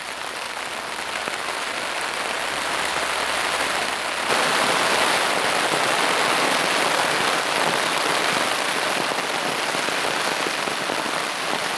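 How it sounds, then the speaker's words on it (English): Heavy rain pours steadily onto a basha shelter on Longridge Fell, a dense continuous hiss of drops drumming the tarp up close, growing louder and fuller partway through with no voices. "I've been hit by heavy rain again."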